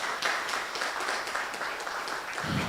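Audience clapping fills a conference hall at a fintech breakfast, a short steady burst of many hands at moderate distance with no voices over it.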